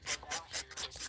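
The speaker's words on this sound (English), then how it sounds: "I can do it with my hand file" A hand file rasps across a nail in quick back-and-forth strokes, about five even scrapes in a steady rhythm, close and clear with no talking.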